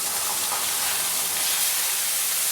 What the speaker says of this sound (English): Just do a couple pieces at a time and it'll sear much better that way.